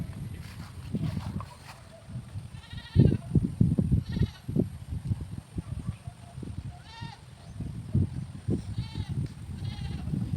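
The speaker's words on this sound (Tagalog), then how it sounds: "ating mga alagang kambing" Several goats bleat in short wavering cries, some near and loud, others farther off, with rustling and shuffling noises between calls, in rainy weather.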